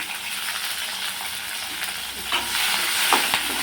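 Crushed garlic sizzles in oil in a pan while being cooked for a tomato peanut chutney, a steady bright crackle, close and fairly loud, swelling toward the end with a few stirring knocks.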